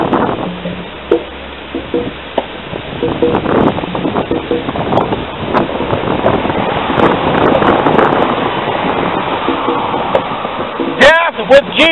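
Gusty wind buffets the microphone outdoors at a beach on City Island, Daytona, making a steady loud rumble under continuous talking.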